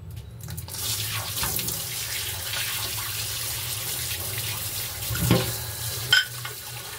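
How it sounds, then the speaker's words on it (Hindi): Tap water runs steadily into a sink during hand washing of an item, a continuous splashing flow with a brief louder splash near the end and no talking. "और अब पानी आ रहा है ना।"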